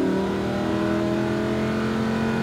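A Lamborghini Huracan's engine drones loud and steady on the throttle, a continuous close mechanical tone lasting the whole moment with no voices.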